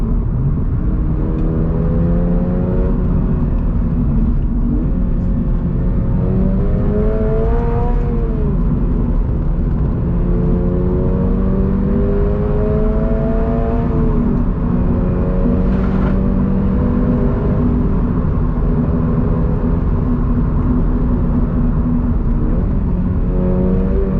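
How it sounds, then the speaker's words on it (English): A 2022 Subaru BRZ engine revs repeatedly from inside the car, its tone rising and falling in several sweeps over a constant loud rumble, with no talking. "Revving. It's got a nice little note too."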